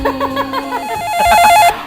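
A telephone rings loudly on a radio call-in show, an electronic warbling tone repeating in quick bursts for nearly two seconds, close and clear.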